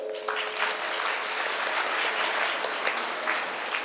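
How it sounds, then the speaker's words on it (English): New university students at an inauguration ceremony clap for themselves, a broad, even wash of hall applause at moderate level that holds steady throughout without voices. "I want you to clap for yourself."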